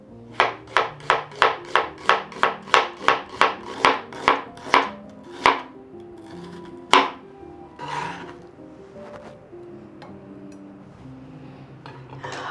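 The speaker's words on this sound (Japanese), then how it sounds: "他の具材と混ざりやすいように薄めにスライスしていきます。" A knife thinly slicing a small onion on a board gives a quick, steady run of about fourteen sharp, close chops, then a few slower, scattered cuts and softer scraping.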